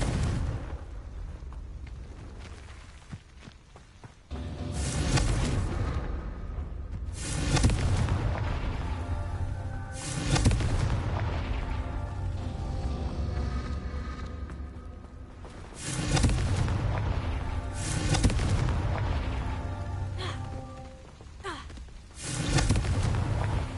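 Confringo spell blasts in the Hogwarts Legacy video game sound as repeated loud booming explosions, each swelling and rumbling off, spaced a few seconds apart, with a voice casting spells between them.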